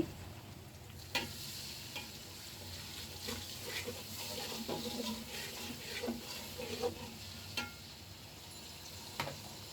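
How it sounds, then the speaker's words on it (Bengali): Onions and garam masala with cinnamon frying in a pot for a home-cooked meal; soft continuous sizzling with occasional stirring clinks and scrapes, fairly quiet and close. "এখানে আমি পেঁয়াজ আর গরম মশলা একসাথে কিছুক্ষণ ভেজে নিয়েছি"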